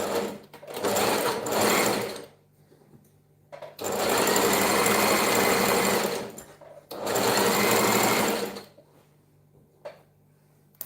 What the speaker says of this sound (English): I'll stitch then overlock it. I mean zigzag that up.